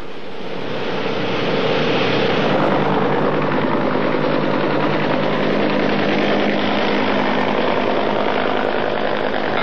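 A loud, constant roar of military helicopter rotors and engines, a flight of sixteen taking off from a floating helicopter base, builds up and holds steady, with a whooshing, wind-like rush throughout.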